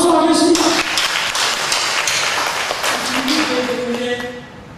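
Church congregation at a Sunday service applauding, a dense wash of clapping that fills the space, with a voice singing or speaking over it toward the end as the clapping thins.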